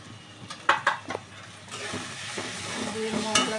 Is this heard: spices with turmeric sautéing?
yes